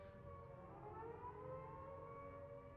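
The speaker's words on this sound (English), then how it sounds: "Uh-oh, air raid sirens." Air raid sirens wail in Xenoblade Chronicles X, a sustained, steady civil-defense tone holding at a constant level, loud and unbroken with no talk over it.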